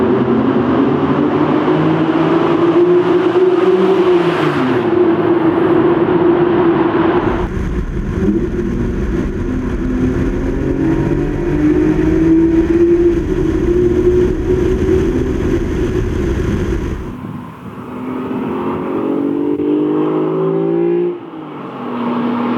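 A Toyota Supra with a 2JZ engine on ITB throttle bodies roars past in a tunnel, its loud, echoing note swelling through revs and dropping away, with a second surge near the end.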